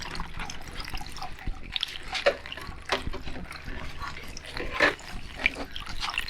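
Fresh grape juice trickling and splashing out of a pressurized juicer once its valve is opened, a faint uneven stream with scattered drips and small knocks throughout.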